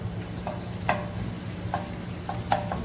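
Steady sizzle of ginger garlic paste frying in a pan, with occasional scraping clicks of a spoon stirring.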